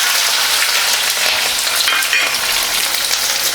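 Green chillies and shallots fry in hot oil as a tempering for tamarind rice, a steady, loud, close sizzle with bright crackle running throughout and no talk.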